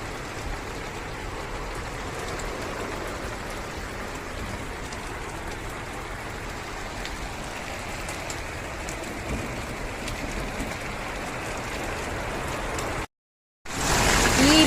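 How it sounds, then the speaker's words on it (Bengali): Steady rain falls in a dense, even hiss, close and continuous, broken by a short gap near the end, during a storm with thunder. "দেখেন বৃষ্টি শুরু"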